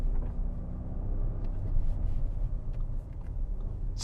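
An Audi SQ7 V8 SUV in dynamic mode takes a corner on a country road, a steady low engine rumble and road noise heard from inside the cabin.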